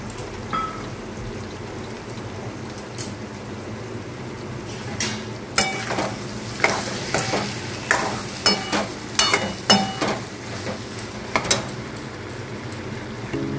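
Cumin seeds dropped into hot fish oil with potato and eggplant, then stirred: a steady low sizzle with a series of sharp scraping and clinking spatula strokes growing busier toward the end, close and fairly loud, no talking.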